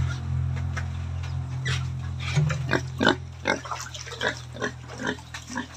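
A pig grunts and snorts repeatedly up close, in short rhythmic bursts over a low steady hum, with a faint clucking in the background.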